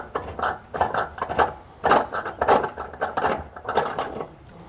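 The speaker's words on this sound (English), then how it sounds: "So I'm actually going to switch over to a 3 inch by 16 inch tap. And we're going to thread the holes that way." A hand tap threading bolt holes in the metal frame of a 2022 Jayco Jay Feather travel trailer, producing a rapid, rhythmic series of close ratcheting clicks and scraping bursts in short repeated strokes.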